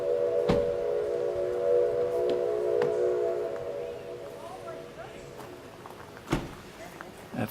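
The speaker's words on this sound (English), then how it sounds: "That's the Felton train, steam train." A distant steam train whistle, the Felton steam train, sounds a long, steady multi-tone blast that fades out, with some sharp knocks and background noise around it.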